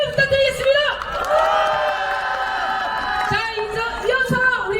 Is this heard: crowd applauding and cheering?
yes